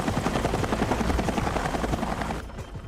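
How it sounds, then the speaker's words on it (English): A helicopter's loud, steady rotor chop and engine roar fill the air, holding close and heavy before easing slightly at the end. "As the helicopter gets closer"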